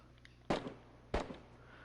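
Two distant gunshots in the DayZ survival game crack out about two-thirds of a second apart, each a sharp burst with a brief echoing tail, over a quiet low background hum.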